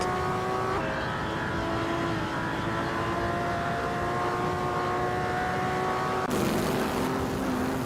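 Pre-war 1937 Auto Union Type C race cars in a racing video game drone past with sustained high engine whine, pitch holding steady then shifting abruptly as another car swells in near the end.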